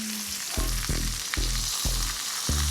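A T-bone steak sizzles loudly and steadily in a frying pan, with a series of regular thumping bursts as the meat is moved and pressed against the hot surface.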